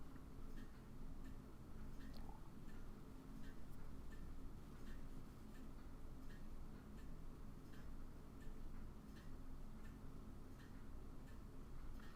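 Steady, regular ticking from the balance wheel of a vintage Zodiac military watch during restoration, with a faint, even tick-tock rhythm running over low background hum, no talk.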